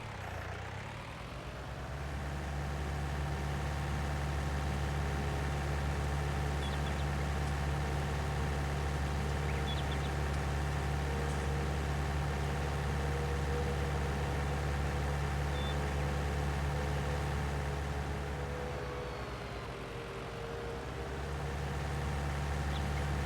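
A tractor engine in the farming game Farming Simulator 19 drones steadily and low, close and continuous, easing slightly about two-thirds of the way through before rising again, with no talking.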